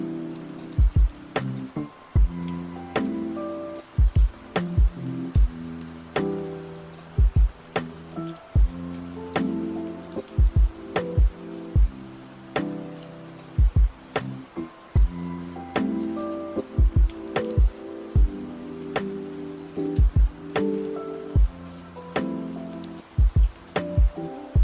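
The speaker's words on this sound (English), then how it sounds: "It's rainy and cold, too." Cold rain falls steadily on surfaces, with a constant patter broken by frequent louder drips and splats recurring throughout, fairly close and without voices.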